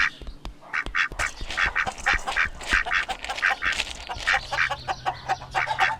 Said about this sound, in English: The ducks immediately go on the hunt for exotic cuisine.